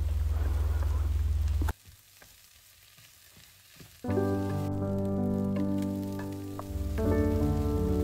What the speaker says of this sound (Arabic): هنقلبهم شوية سوا مع البصل والثوم